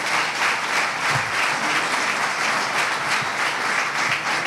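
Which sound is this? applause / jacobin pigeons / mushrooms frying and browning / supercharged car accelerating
applause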